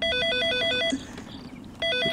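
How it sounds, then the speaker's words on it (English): A telephone rings in a hidden-object mystery video game, an electronic two-tone trill repeating in quick bursts, pausing briefly and starting again, loud and close with no voices over it. "It's ringing."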